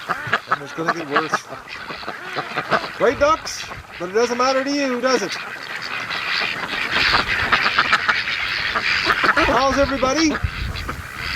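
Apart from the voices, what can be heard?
ducks quacking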